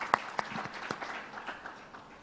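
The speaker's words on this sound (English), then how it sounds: "Let's clap for them for 20 years being in existence." Audience applause honoring the Microfinance Support Center at an event marking its 20 years, a short burst of clapping with a few sharp claps standing out at the start, fading slightly toward the end.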